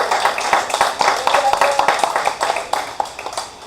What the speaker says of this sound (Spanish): Lo puedes aplaudir si lo vas a aplaudir.